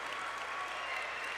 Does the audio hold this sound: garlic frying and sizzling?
no